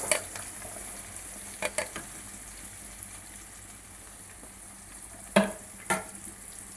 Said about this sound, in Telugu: ఇప్పుడైతే మనం కట్ చేసుకున్న బీరకాయ ముక్కలు వేసుకుందాం.